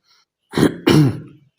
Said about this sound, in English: Now I'll clear my throat in this case.